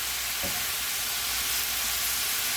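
Cabbage browning on high heat in a pan while it braises, giving a steady close sizzle and crackle throughout with one brief stirring scrape near the start, no talk.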